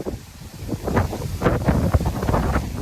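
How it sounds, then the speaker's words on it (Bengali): Strong wind buffets the microphone in loud, gusty bursts of low roaring rumble, steady throughout with no voices, outdoors in rainy weather by a cooking stove. "প্রচুর পরিমাণে বাতাস ছাড়ছে"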